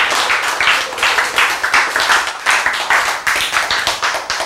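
Audience clapping in a Korean church lecture: loud, rhythmic group claps in a steady, regular pulse, roughly two or three beats per second, continuing for several seconds.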